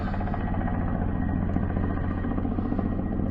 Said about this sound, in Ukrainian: Вертушка медленно летит, дрон быстро пролетел